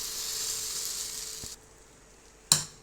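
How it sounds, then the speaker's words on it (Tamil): Thick dosa batter hits a hot griddle for a Madurai-style mutton dosa, giving a loud, steady sizzling hiss that cuts off abruptly, followed by a quiet pause and a single sharp clink. "தோசை ஊற்றிக்கலாம். கொஞ்சம் மொத்தமாக ஊற்றிக்கிறேன்"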